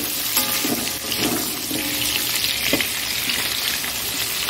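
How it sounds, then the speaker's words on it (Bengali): Potato and tomato pieces frying in a pan, a steady close sizzle with crackling bursts and faint stirring, no voices. "আলুটা আস্তে আস্তে ভাজা হোক"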